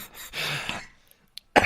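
A man at Glenbrittle coughing and throat-clearing after choking on water, a few short harsh bursts close to the microphone with a brief quiet gap before a final cough.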